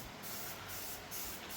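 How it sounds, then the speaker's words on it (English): An aerosol can sprays paint onto an S10 pickup crossmember in quick, evenly spaced hissing bursts, about four in a second and a half, close by and fairly quiet, with no speech. "Bubby's about to spray paint this thing up"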